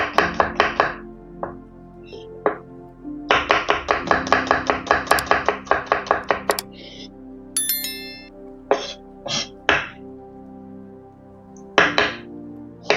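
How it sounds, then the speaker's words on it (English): Garlic being chopped with a knife on a cutting board while egg and potato curry is prepared, close and loud, with bursts of rapid steady knocks broken by pauses and scattered single taps. "Now we chop the garlic."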